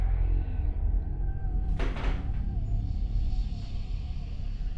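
A single door thuds shut about midway through, heard in the Night Book video game over a steady low ambient rumble, with no other events around it.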